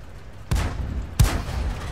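Two heavy tank gun blasts from World of Tanks, about a second apart, each a sudden booming crack that trails off into a rumbling decay, loud and close.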